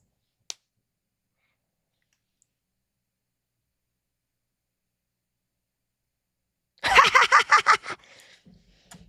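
A single sharp computer mouse click in Logic Pro stands alone in near silence, followed several seconds later by a short burst of laughter-like vocal sounds.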